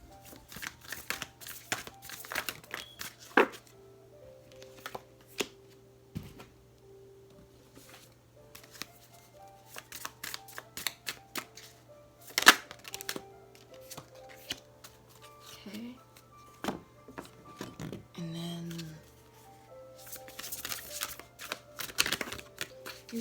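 Tarot cards being shuffled in short papery bursts and riffles, separated by quiet pauses, close to the listener.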